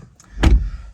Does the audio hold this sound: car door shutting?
yes